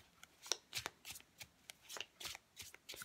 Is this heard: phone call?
no